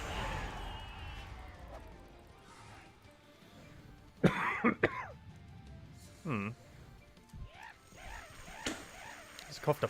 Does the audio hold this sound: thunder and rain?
no